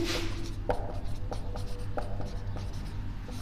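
Pen writing Sanskrit grammar notes on paper, a steady series of short scratchy strokes at an even pace, fairly close and clear, with no talk.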